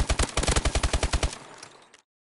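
Submachine gun fire in a video game: a rapid burst of about a dozen evenly spaced shots over roughly a second and a half, loud and close, then a short fading tail.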